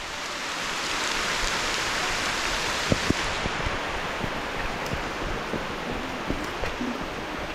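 Steady rain falls outdoors in July at Chapada de São Miguel, a constant close hiss broken by occasional sharper drop taps, with no voices.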